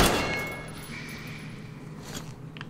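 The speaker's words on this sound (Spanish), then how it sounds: "voy a pegar un disparo" A single gunshot in the video game Metro Exodus, a sharp loud report at the start that decays into a ringing tail and faint ambient noise.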